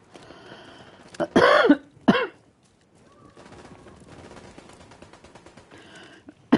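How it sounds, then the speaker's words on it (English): A person coughs in two harsh, loud bursts close to the microphone, then goes quiet, with faint game sounds murmuring afterward and a brief rough noise near the end. "I'm sorry about the coughing,"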